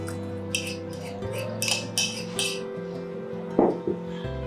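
A utensil mixes mushrooms and cream in a metal pot, giving a few light clinks and scrapes against the side, with one louder knock near the end and a steady background hum.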